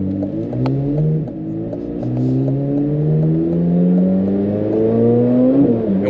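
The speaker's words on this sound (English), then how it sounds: "when I'm driving, other people, they hear the car too" Chevrolet Corvette Z06 engine revving while driving, heard up close as a loud, rising roar climbing through the gears with brief dips at each shift, and no one speaking.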